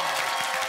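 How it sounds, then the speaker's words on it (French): A burst of loud applause from a French television studio audience, dense clapping filling the moment. "on l'applaudit très très fort, Ellie Semoun."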